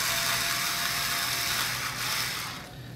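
A size 1 Phillips screwdriver backs tiny screws out of a OneWheel Plus, giving a close, quiet run of fine ratcheting clicks that fades slightly near the end.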